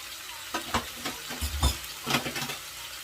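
Chicken gizzards and chicken liver frying in a pan, crackling sizzle with several louder bursts and stirring scrapes across a few seconds, close and alone.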